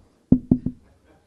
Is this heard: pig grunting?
no